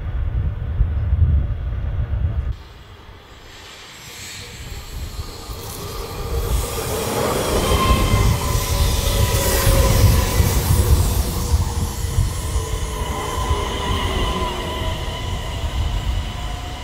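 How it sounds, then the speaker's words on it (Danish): A train passing through a railway station on a trip toward Lapland, loud and close rumbling wheels with rising metallic squeals and screeching, continuous and building after a quieter start, no voices. "Vi gik ned på stationen for at se, om der var noget tog at spotte."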